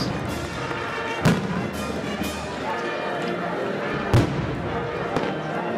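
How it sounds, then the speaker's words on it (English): Several sharp, booming firework bursts pop out at uneven intervals over a steady crowd murmur, with people talking throughout, at an outdoor Easter resurrection procession. "Fireworks."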